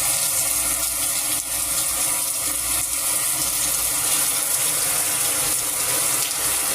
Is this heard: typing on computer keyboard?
no